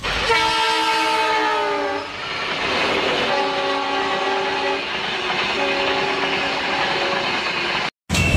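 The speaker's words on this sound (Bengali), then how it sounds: "আমাদের কম্পার্টমেন্ট বা ডাব্বা আমরা প্ল্যাটফর্ম ছেড়ে দিল" The Brahmaputra Mail express pulls away from Jamalpur Junction platform at night, sounding three long horn blasts over a constant loud rumble of the moving train, heard up close without talking.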